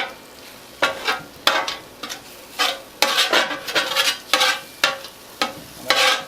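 Food is scraped and stirred with a metal utensil across a Blackstone 17 inch griddle, giving a series of close, sharp scraping strokes in an uneven rhythm over a low sizzle.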